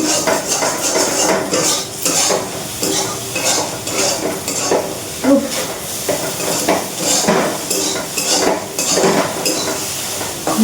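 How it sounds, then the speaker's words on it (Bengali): Potatoes fry with onion in a pan, sizzling steadily while a utensil stirs and clinks against the metal at irregular intervals, close and clear with no talking. "বলছি একটু তাহলে পেঁয়াজ দিয়ে আলু ভাজো কড়া করে, এই আলু ভাজছি"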